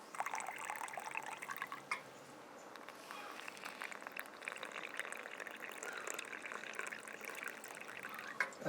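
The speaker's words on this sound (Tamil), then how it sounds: "இது ரெண்டுத்துலையும் தண்ணி ஊற்றி மிக்ஸ் பண்ணிக்கிறோம்" Water trickles and splashes softly, with faint stirring and clinking as water is mixed with half a spoonful of ingredients, close by and quiet.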